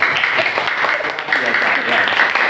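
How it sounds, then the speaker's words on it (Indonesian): A classroom full of students claps together in dense, continuous applause, loud and close, with voices mixed in. "kasih tepuk tangan dulu dong"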